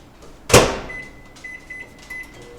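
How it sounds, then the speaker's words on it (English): A microwave oven runs with a dish inside, a loud thud like its door closing near the start, then a steady hum with faint beeps and clicks over about two seconds. "I think I will just put it in the microwave for a moment"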